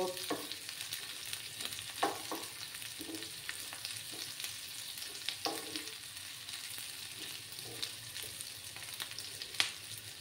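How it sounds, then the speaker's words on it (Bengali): Chopped capsicum frying with onions in a pan: a steady low sizzle punctuated by irregular stirring clatters and scrapes, heard up close with no voices. "একটা ক্যাপসিকাম কেটে রেখেছিলাম, এটা দিয়ে দিচ্ছি। ভালো করে একটু ফ্রাই করে নেব"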